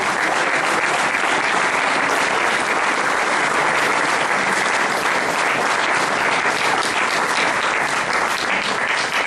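Church congregation clapping together as an offering of applause, a dense, steady roar of palms that holds at full volume throughout with no voices on top.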